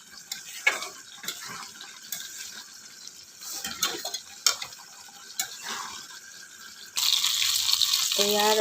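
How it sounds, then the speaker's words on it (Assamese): Brinjal fries in a pan as a utensil stirs and taps against the metal in scattered clicks over a low sizzle, then a louder, steady sizzle swells near the end. "এয়া আৰু বেঙেনা ভাজি আছোঁ"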